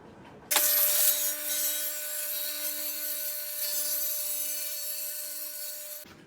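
A table saw rips through wood while building a crosscut sled, starting abruptly with a loud whining cut that holds steady for about five seconds before stopping suddenly.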